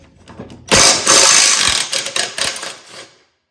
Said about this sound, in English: I'm gonna use my Craftsman Impact I've had for years.